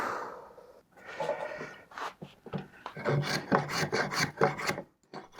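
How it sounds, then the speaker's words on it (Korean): Hand carving the wooden handle of a traditional Korean rice cake stamp: steady rasping and scraping strokes of a blade on wood, close and fairly loud, in a quick uneven rhythm after a brief pause. "모양을 잡은 나무에 떡살의 손잡이부터 만들어줍니다."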